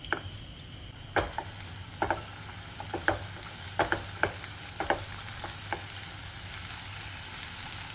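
Tomatoes sizzle steadily in a pan while cooking for eggplant bharit, with a series of sharp spatula clicks and scrapes from stirring over the close, continuous frying hiss.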